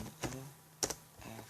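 A Linux command is typed on a computer keyboard in a few quiet, close clusters of key clicks spread over a moment, with no one talking.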